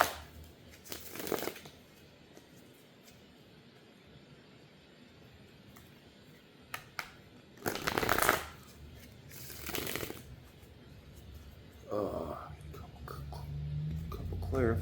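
Tarot cards being shuffled for a couple of clarifier draws, with soft riffling bursts and crisp card slaps close by, spaced between quiet gaps, and a murmured voice near the end.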